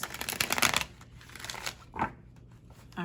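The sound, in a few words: shuffling tarot cards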